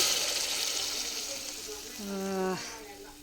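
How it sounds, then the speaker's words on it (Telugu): Sizzling tadka is poured into a pot of dal in a home kitchen, giving a broad, steady frying hiss that swells and ends with a short pouring gurgle, with a voice speaking partway through. "కానీ తాలింపు ఒకసారి అయితే పోసేస్తాను"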